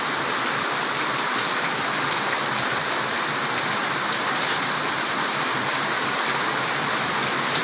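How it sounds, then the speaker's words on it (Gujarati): A heavy downpour roars close and constant, a dense, even wash of falling water with no voices over it. "અત્યારે ફૂલ વરસાદ ચાલુ છે."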